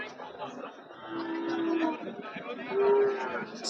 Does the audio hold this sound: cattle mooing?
yes